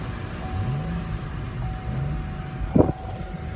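A Corvette drives along with a low engine drone that rises and falls in pitch over rushing wind noise, and a short thump stands out near the end.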